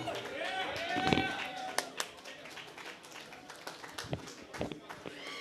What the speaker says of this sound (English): Give a loud round of applause for Dan Sheehan.